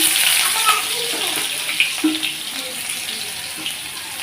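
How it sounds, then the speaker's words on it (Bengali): Garlic dropped into hot oil in a kadai, giving a loud, steady, close hiss of sizzling that continues throughout, with a voice speaking briefly over it. "তো দেখো তেলটা গরম হয়ে গেছে দিয়ে দিচ্ছি রসুন"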